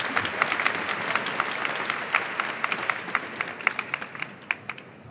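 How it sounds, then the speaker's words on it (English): A fashion-talk debate audience applauds the speakers, a dense round of clapping with distinct individual claps standing out, gradually thinning toward the end. "Please give them all a warm applause."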